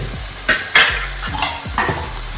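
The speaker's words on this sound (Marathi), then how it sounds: "आता आपण त्याच्यावरती झाकण ठेवणार आहे" A lid set on a pan of spiced vegetables cooking in oil, several sharp metallic clanks and scrapes over a soft sizzle, close and loud, with no talking.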